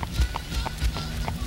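A patrol horse in Dallas walks along, its hooves clip-clopping in a steady, close rhythm of about four or five distinct strikes, with low background noise.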